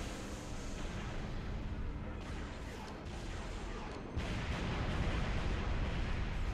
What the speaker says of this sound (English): That was a lot of grenades.